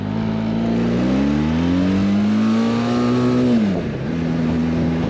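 A Benelli TRK502X motorcycle engine pulls hard under acceleration, its loud tone climbing steadily in pitch, briefly dropping at a gear change, then settling into a steady drone.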